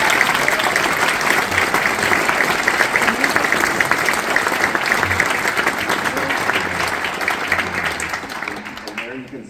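An audience at a school band festival awards ceremony applauds loudly and continuously, a dense wash of many hands clapping that fades slightly at the end.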